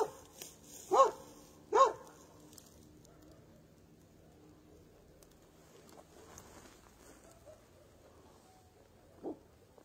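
A dog barks twice in the distance, two short sharp barks about a second apart, then a few fainter sounds in a quiet night setting, with a last single bark or yip near the end.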